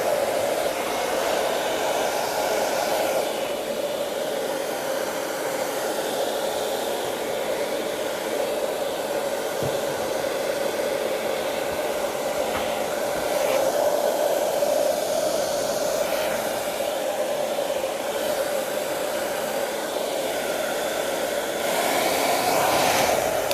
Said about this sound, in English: Now I'm going to use the hairdryer